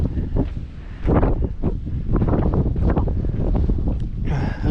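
Strong gusts buffet the microphone on a mountain hiking trail along Jacks Knob Trail North, a steady broadband roar of wind rushing close and loud across the whole stretch with no voices.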